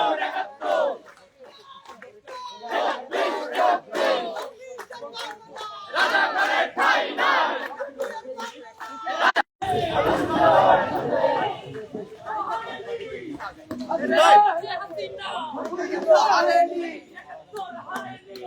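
A student protest march inside Dhaka University, where a crowd chants slogans in loud, rhythmic shouted bursts with brief gaps, voices overlapping close by.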